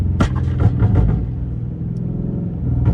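Dodge Charger Scat Pack engine with a loud exhaust, driving in snow, giving a deep rumbling rev with crackling pops, close and steady without talk.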